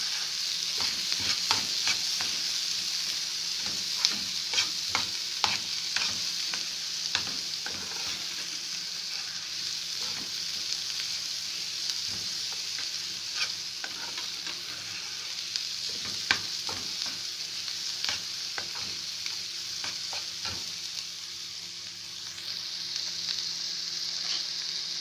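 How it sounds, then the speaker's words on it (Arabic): Peppers sautéing in a hot pan for a simple cauliflower omelette, a steady close sizzle with repeated scraping clinks of a spoon stirring through the pieces, no voices. "هشوح الفلفل بس كده ايه يعني تشويحة بسيطة كده اهوت"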